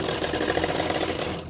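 Sewing machine stitching blouse fabric, a fast steady mechanical chatter heard up close for a brief continuous run.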